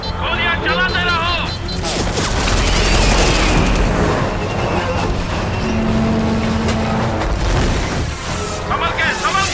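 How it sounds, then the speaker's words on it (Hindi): Gunfire rattles through an animated battle as a dense, loud barrage with booming blasts, and voices shout throughout. "गोलियां चलाते रहो।"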